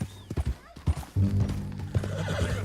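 Horse hooves clip-clopping, then a loud whinnying neigh over a steady backdrop in the video game Red Dead Redemption 2, fairly close.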